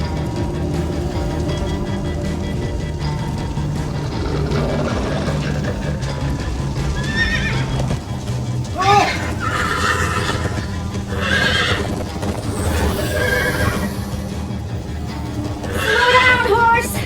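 Horses whinny repeatedly and hooves clip-clop in a Minecraft: Story Mode game scene, loud neighs recurring over galloping and background music.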